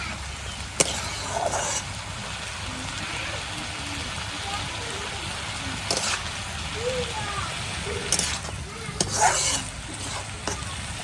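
Teasel gourd and potatoes are stirred and fried in a village kitchen, a constant crackling sizzle with several sharp utensil knocks and scrapes, and intermittent voices in the background.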